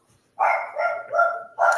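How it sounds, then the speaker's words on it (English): A dog barks four times in quick bursts, fairly close and loud, with short pauses between the barks and nothing else heard. "I don't know if y'all can hear that, but my dog going crazy."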